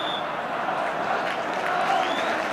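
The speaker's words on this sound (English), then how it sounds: "the applause still ringing round the ground for West Ham's last attack" Football crowd applauding around the ground during a 1984 West Ham United versus Arsenal league match, a steady wash of clapping and crowd noise from the stands.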